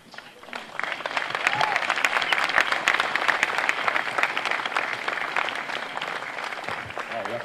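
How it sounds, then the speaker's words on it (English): Graduating seniors at a 2022 high school graduation ceremony break into dense, loud applause that builds quickly and holds steady, with scattered cheers and voices mixed in. "I want to kindly ask all the seniors to stand up and applaud for those who have supported them through the years"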